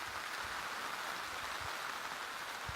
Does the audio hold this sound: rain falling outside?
yes